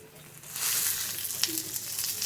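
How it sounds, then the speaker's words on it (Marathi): Onion and grated dry coconut sizzle in a pan over medium heat, a steady hissing fry with a brief scrape partway through, moderately close and with no talk. "आणि आता कांदा आणि खोबरं चांगलं तांबूस रंगाचं म्हणजे बदामी रंगाचं होईपर्यंत भाजून घेऊया आपण."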